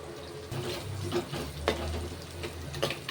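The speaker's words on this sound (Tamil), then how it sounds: "வெங்காயம் போட்டு நல்லா வதக்கு" Onions and garlic are sautéed in a pan, with a quiet sizzle under repeated scraping strokes of a spatula at an uneven rhythm.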